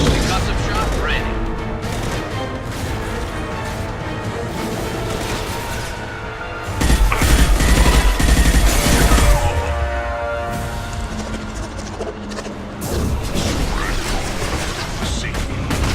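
Gunfire in Mass Effect 2, bursts of shots and heavy impacts coming in waves, with a loud booming stretch in the middle, mixed with game music and voices.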